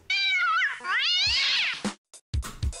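A cat in the video game Nora lets out a long, loud, wavering meow that bends up and down in pitch, followed by a few short soft thumps and clicks.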